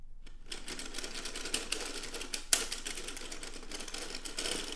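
A hand-cranked circular sock knitting machine runs continuously, giving a close, busy mechanical clatter of needles and gears with small rhythmic ticks and one brief louder click, and no talk.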